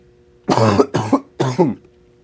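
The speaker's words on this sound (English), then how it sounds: "Let me get this cough out of the way first." Three close, loud coughs into a podcast microphone in quick succession, each a short harsh burst, followed by quiet.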